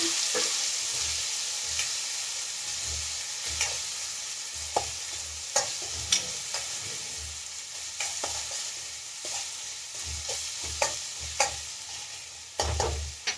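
Tomato and coriander fry in a pan with a constant soft sizzle, broken by a spatula scraping and tapping against the pan in irregular strokes, close and steady.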